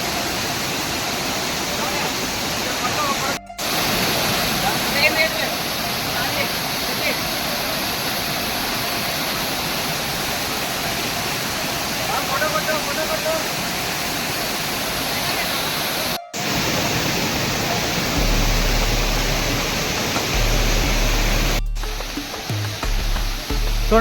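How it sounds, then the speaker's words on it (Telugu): Katiki waterfall near Araku drops about 100 metres, giving a steady, loud roar of falling water. The rushing wash fills the whole stretch, with only a few brief dropouts along the way. "100 మీటర్స్ హైట్ నుంచి పడుతూ ఉంటే నేరుగా ఆకాశం నుంచే ఈ జలపాతం అనేది పడుతున్నట్టుగా"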